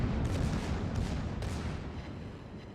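Warship main guns fire in the naval video game World of Warships, giving a low, rumbling barrage of booms over a continuous game soundscape, fairly faint and fading.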